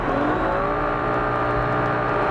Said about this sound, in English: Now that clutch is over revving.